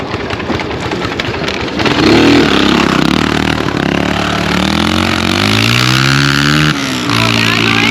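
Kawasaki Bayou 220 ATV engine revving hard to high RPM, loud and close, its pitch sweeping upward in rising whines with a brief dip before climbing again.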